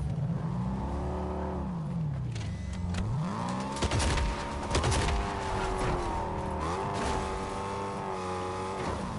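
A car in Fortnite revving and accelerating away, engine pitch sweeping up and down through gear changes, with sharp bursts of gunfire crackling over the motor; continuous and fairly loud.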